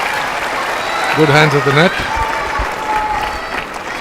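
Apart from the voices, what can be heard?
crowd applauding at tennis match in Chennai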